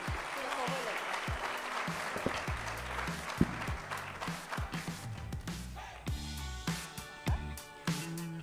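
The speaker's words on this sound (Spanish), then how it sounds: "Un fuerte aplauso para Claudia y para Lina." Applause for two panel speakers at a company event in Colombia, dense clapping that thins out while music with a steady beat plays underneath and grows more prominent.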